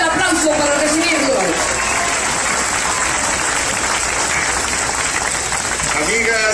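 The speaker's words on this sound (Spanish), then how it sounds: "Fuerte el aplauso para recibirlo." A rally crowd at a political campaign event in Guaymas, Sonora applauds to welcome a Senate candidate with loud, dense, continuous clapping and cheering throughout, and a voice briefly rises above the noise at the start and the end.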